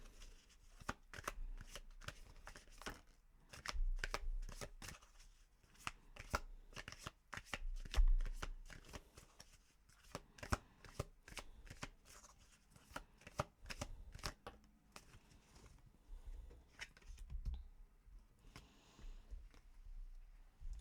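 Tarot deck shuffled by hand during a reading, with repeated crisp riffles and taps of cards in bursts over a quiet background, close and fairly soft, no talk.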